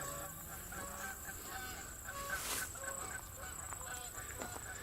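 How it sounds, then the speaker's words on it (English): Geese honking in a park in Moberly, Missouri, a cluster of nasal calls repeating across the stretch at moderate distance over faint outdoor background. "Geese are a little upset over something."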